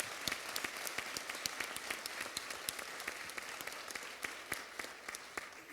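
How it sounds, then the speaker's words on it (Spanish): An audience at a panel discussion gives itself a round of applause, the crisp individual claps distinct and fairly sparse, continuing evenly at moderate volume throughout. "Vamos a darnos un aplauso todos, por favor."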